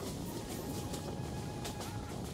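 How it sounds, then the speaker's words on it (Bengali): A passenger train runs through tea gardens near Sreemangal, heard as a steady, muffled rolling rumble with a faint whining hum, even and moderately quiet throughout. "চা বাগানের ভেতর দিয়ে ছুটে চলেছে ট্রেন"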